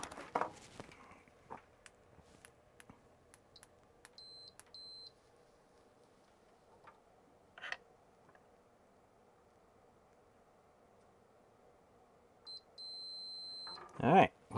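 A multimeter on continuity mode gives short electronic beeps as probes touch a repaired trace on a Varta-damaged 286 motherboard, a DTK PTM-1000; scattered faint clicks and brief tones in a quiet room, with a longer beep near the end.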